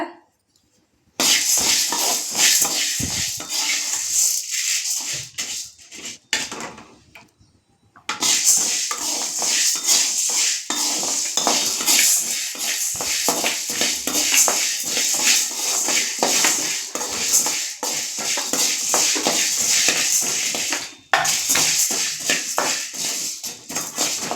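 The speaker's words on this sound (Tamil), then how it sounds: "கருப்புளுந்தை போட்டு நல்லா வறுத்துக்கோங்க. சிம்மில் வச்சு வறுத்துக்கோங்க" Black urad dal dry-roasted in a pan over low heat: a steady, close rattling scrape of grains shifting against metal, breaking off briefly near the start and again around the eighth second before resuming.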